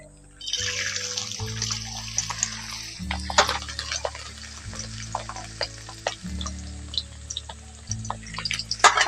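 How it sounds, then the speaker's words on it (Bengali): Soaked, washed and drained chana dal hitting hot oil and frying with a steady crackling sizzle and scattered pops, close and fairly loud, over soft background music. "এবার এগুলোকে আমি তেলের মধ্যে দিয়ে ভেজে নিচ্ছি"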